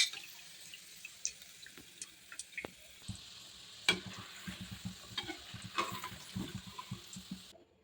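Chicken cheese balls deep-frying in hot oil, a few at a time, giving a steady crackling sizzle with scattered pops and bubbling bursts, close and moderately loud, with no talking.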